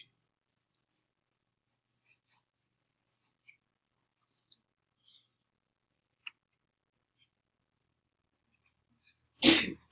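A single loud sneeze bursts out near the end in a quiet honors geometry classroom, preceded by scattered faint ticks and taps.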